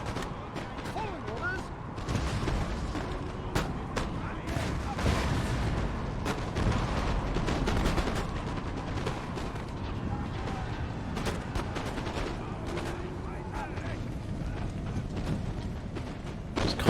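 Artillery canister shot booms repeatedly in a Napoleon: Total War battle, a sustained barrage of sharp cannon blasts and crackling musketry layered over a dense battlefield din, with steady loud rumble from start to finish.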